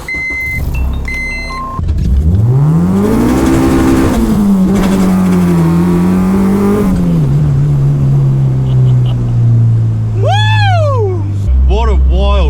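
A K-swapped Honda Civic EG is driven hard on a mountain touge road, its engine loud and close as it climbs through the revs into VTEC, with people talking over it.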